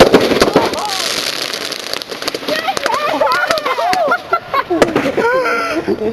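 Fireworks bursting at a quarry, a rapid crackling series of sharp pops and bangs, close and loud, with excited voices talking and shouting throughout.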